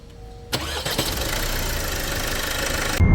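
A car engine, just repaired after a P2598 turbo fault, cranks briefly and catches, then settles into a loud, close, steady idle with no voices.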